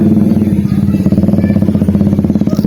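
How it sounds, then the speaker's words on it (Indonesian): A motorcycle engine rumbles loudly nearby with a steady, rapid throbbing beat. "sebentar ya, ada suara motor"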